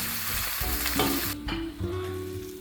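Kale being stir-fried with crispy pork in a hot pan, with steady sizzling and the scrape and clatter of stirring, loud and close, with no voices.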